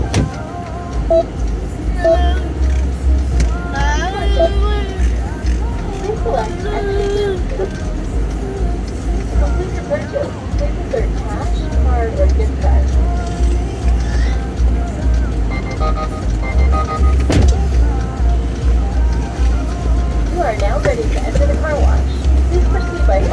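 An automatic car wash runs in Easton, Pennsylvania, with a Ram 1500 pickup inside, giving a steady loud mechanical roar and rumble throughout while people talk over it.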